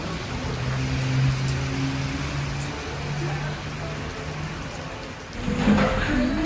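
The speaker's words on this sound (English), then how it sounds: "the rains are beginning" Heavy rain pours down steadily during a tropical rainstorm in Indonesia, a dense, even hiss with low tones underneath and a brief louder swell near the end.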